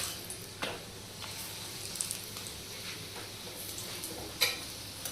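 Sattu-stuffed paratha frying in oil or ghee on a pan, with a soft, low sizzle and a few light utensil clicks and taps close by.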